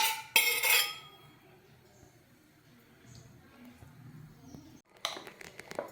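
A spoon mixes batter made with puffed rice in a bowl: a burst of sharp metal scraping and clinking, a quiet stretch, then more clatter at the end.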